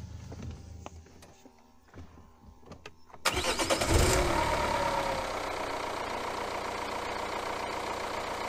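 After some quiet clicks and handling noises, a Renault Vel Satis 2.2 litre car engine is started with a jump starter. It cranks briefly, catches and settles into a steady idle nearby.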